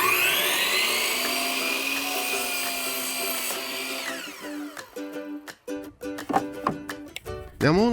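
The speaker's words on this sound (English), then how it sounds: "it's back outside to the miter saw to cut them to length" A miter saw cuts plywood cornhole legs to length outdoors: a loud, steady motor whine that spins down, followed by a series of sharp knocks and clatters as the pieces are handled.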